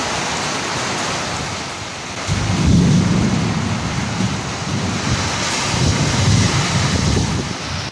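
A monsoon thunderstorm over a desert off-grid home build site, with a steady loud wash of heavy rain and deep rolling rumbles of thunder swelling in partway through and returning near the end, with no talking.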